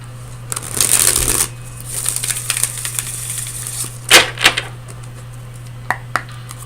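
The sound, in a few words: shuffling tarot cards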